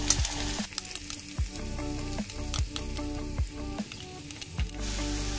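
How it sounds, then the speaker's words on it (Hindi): Vegetables frying in hot oil with fennel seeds and finely chopped green chili, a steady close sizzle with repeated scraping and stirring strokes, no talk. "अभी एक एक करके हम अपनी सारी सब्जियों को इसमें डाल के अच्छे से फ्राई करेंगे।"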